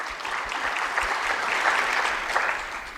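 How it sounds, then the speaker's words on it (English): An audience at a philanthropy forum gives a round of applause, a short burst of dense, steady clapping filling the room at moderate loudness with no talk over it. "round of applause again"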